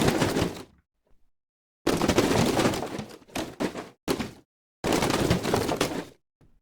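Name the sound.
granular synthesis debris sound effect made in Phaseplant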